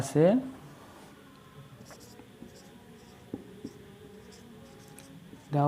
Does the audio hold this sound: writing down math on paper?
yes